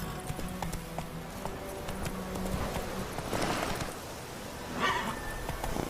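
Roach, the horse from The Witcher 3 video game, gallops with a steady run of clip-clop hoofbeats over a continuous game ambience, and a brief louder swell near the end.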